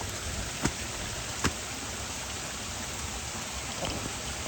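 Heavy rain pours steadily at a creek crossing on a wet campsite walk, a dense, even hiss throughout with a couple of brief louder drops or knocks near the start.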